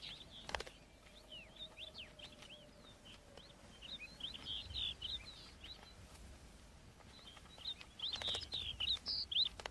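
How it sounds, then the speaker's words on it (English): Snow buntings call around rocky Arctic outcrops in Russia, giving many short, bright chirps and twittering notes that come in scattered bursts over quiet ambient hiss, with a denser flurry of calls toward the end. "Around rocky outcrops, snow buntings display."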